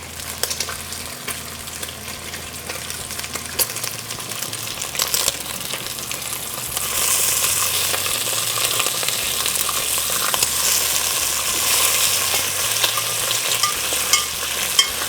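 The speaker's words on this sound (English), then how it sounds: "I still like to hear it sizzle." Bacon sizzles in a Dutch oven, a steady close hiss with soft crackles and occasional stirring scrapes that grows louder and denser partway through, with no talking.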